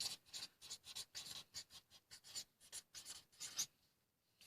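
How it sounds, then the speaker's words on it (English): A pen scratches across paper in quick, rhythmic strokes, close and quiet, with a brief pause near the end and no voices. "Let me actually write it down once more."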